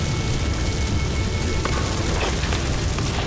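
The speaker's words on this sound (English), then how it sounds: "Those flare-ups will cook you alive." Fiery flare-up bursts roar in Dungeon Siege 3, a dense, loud rumbling blaze with low booms and crackling pops running steadily throughout, no voices.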